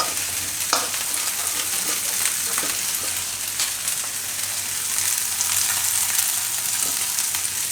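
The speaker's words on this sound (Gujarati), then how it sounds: "હવે આની ઉપર આપણે નાખીએ ખીરું" Maggi noodle pudla batter poured onto a hot pan over a low flame, giving a steady loud sizzle and crackle with small spattering pops throughout, close and without speech.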